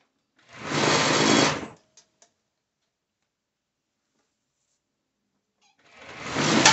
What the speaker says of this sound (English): So I'm serging it on the wrong side.